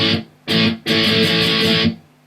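Distorted electric guitar plays down-stroke strums from a song's interlude: two short choked chords, then a longer sustained strummed chord before stopping, loud and close.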